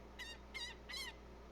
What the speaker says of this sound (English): I am about to kill this goddamn goose